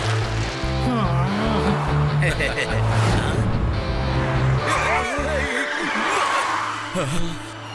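Cartoon auto rickshaws race each other, their engines revving and tires skidding in a busy, loud stretch, mixed with animated voices and chuckling.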